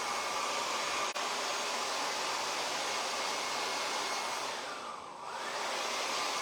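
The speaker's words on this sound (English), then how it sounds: "It's actually on low speed and low heat. But this blow dryer is quite strong." A strong blow dryer running on low speed and low heat during a haircut, a steady close whooshing roar that briefly swells and shifts as it is tilted.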